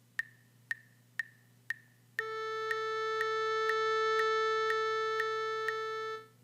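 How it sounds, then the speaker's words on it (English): Four evenly spaced metronome-like clicks count in, then a single sustained pitched tone holds steady for eight beats while the clicks continue over it, clean and quiet. "a pitch that has a duration of 1 double whole note would sound like this"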